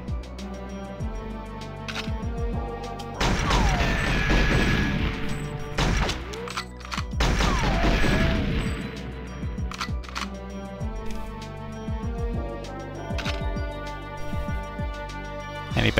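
Gunfire and explosions in the video game GoldenEye 007, with loud bursts of shots and big booming blasts in two heavy waves, then scattered single shots and impacts over a game music bed.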